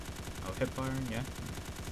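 Rapid automatic gunfire from hip firing in the video game Dread, a quick stuttering burst of shots with a voice talking over it.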